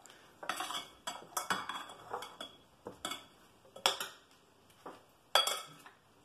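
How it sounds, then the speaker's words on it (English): Minced vegetables for an octopus salad are mixed in a bowl with a utensil, giving a rhythmic series of clinks and scrapes, close by and fairly quiet, with no talking. "I just want to sort of mix all that together, let those vegetables do their dance"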